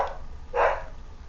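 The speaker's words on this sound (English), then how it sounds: "We got barking dogs." Dogs bark somewhere away from the microphone: one short muffled bark at the start and a fuller bark burst midway, heard over a low steady background hum.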